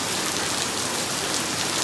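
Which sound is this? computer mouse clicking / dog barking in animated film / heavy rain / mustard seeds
heavy rain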